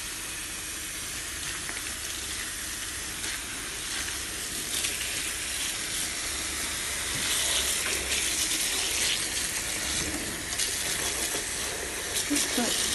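Running water rinsing a Heki motorhome bathroom roof light, a steady close splashing hiss under a tap that continues throughout and grows slightly louder partway through, with no voices.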